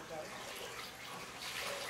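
Water sloshes and splashes in a bath during a stage play, a steady bright wash of liquid noise that swells slightly toward the end, with no speech over it.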